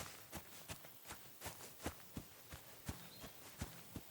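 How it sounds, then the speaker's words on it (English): A horse rider galloping fast in the medieval game Kingdom Come: Deliverance II, rendered as a run of soft, irregular hoof thuds spaced about half a second apart, faint and fairly distant under quiet ambience. "that's a horse rider going pretty fast over there"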